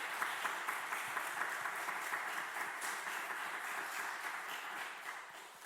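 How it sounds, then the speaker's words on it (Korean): A church congregation at a Wednesday worship service applauds steadily, a dense and continuous wash of many hands clapping that tapers off slightly at the end. "우리 감사의 박수 한번 하도록 하겠습니다."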